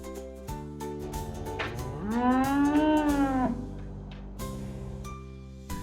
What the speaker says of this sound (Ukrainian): Так, корова каже му.